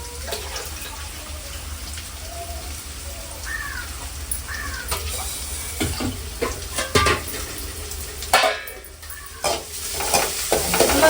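Onions being stirred and sautéed in a pan in a village kitchen, with a soft steady sizzle and scraping stir strokes, while crows caw now and then in the background.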